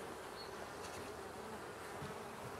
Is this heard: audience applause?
no